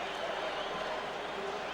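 Crowd clapping at a BC Lions football game, a faint, steady wash of applause from a distant stadium, with an announcer talking over it.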